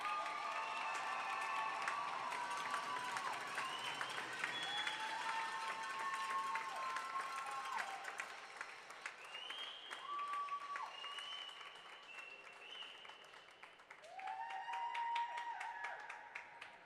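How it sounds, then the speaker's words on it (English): Crowd applause with scattered cheers and whistles in an arena after a first-team all-star hockey player of the Port Coquitlam Saints is announced at a third-place game medal ceremony, steady clapping that dips midway and swells again near the end. "We can give him a big round of applause."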